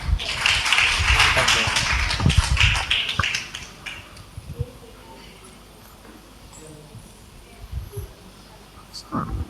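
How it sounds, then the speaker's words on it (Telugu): A church congregation at a Sunday service claps in praise, a dense burst of hand claps for the first few seconds that thins to scattered claps over room murmur and voices. "దేవుని స్తుతిస్తూ చప్పట్లు కొట్టి వారికి సమయాన్ని ఇద్దాం"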